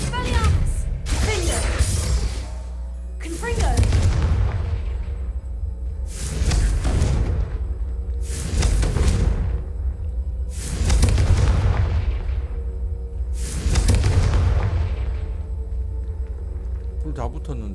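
Confringo spell blasts in the Hogwarts Legacy video game, five or six booming explosions with rumbling tails spaced a few seconds apart, loud and heavy, mixed with a voice shouting spell names.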